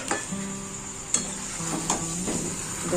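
Food frying in a kadai sizzles softly and continuously while a spatula stirs it, with occasional metallic clinks and scrapes against the pan close by.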